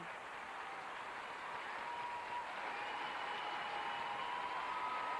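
Standing ovation from a figure-skating crowd at the 1996 Canadian Championships men's free skate: dense, steady applause that holds at full volume throughout, with no breaks.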